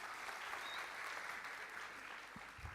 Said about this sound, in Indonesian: Berikan tepuk tangan untuk Kesia.